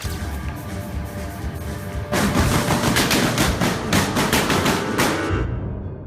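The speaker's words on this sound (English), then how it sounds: "followed by the chilling, unmistakable sound of gunfire." A rapid burst of loud gunfire erupts after a few seconds of muffled crowd and music noise, crackling shots overlapping densely before cutting off.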